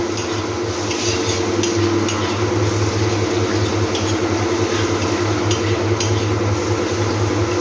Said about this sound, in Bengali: রসুনটা ভাজা ভাজা করে নেব, রসুনের গন্ধটা চলে যাওয়া পর্যন্ত ভাজবো।